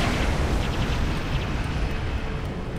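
Torpedo explosions in a Star Trek Online space battle merge into a loud, continuous roar of blasts and rumbling booms that fills the clip without pause, with no voices.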